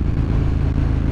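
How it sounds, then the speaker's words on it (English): A KTM Super Duke R motorcycle exhaust rumbles loud and deep, a steady throaty engine drone held close by with no break. "when you hear that throttle, man, oh, you hear that exhaust"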